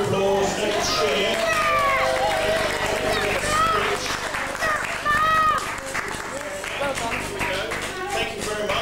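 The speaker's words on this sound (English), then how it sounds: "we have a big round of applause" Applause and cheering from a village crowd at a Golden Jubilee celebration as prize winners come forward, with voices and chatter mixed through the clapping.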